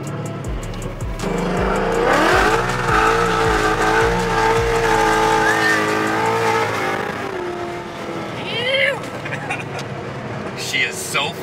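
A supercharged race car engine revs hard and pulls away down the drag strip, with low rhythmic pulses and rising engine tones fading as the car runs off, followed by people talking and shouting nearby.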